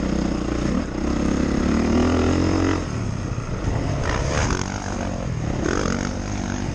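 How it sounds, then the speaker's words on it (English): A Yamaha motocross motorcycle passes on the track at IMI Motorsports Park, its engine droning steadily at moderate volume before the tone shifts and fades off as it moves away. "We'll let this Yamaha go by."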